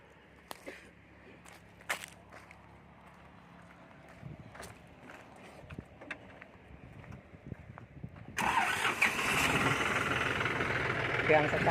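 Faint clicks and taps in near quiet, then a three-cylinder 5045D tractor engine catches and roars into a loud, steady, rumbling run.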